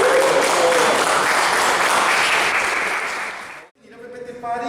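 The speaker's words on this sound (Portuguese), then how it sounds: "Então um aplauso para a segunda edição da PPT Party" A room of attendees at a presentation party claps loudly and continuously, the applause thinning and stopping abruptly near the end, followed by a brief voice.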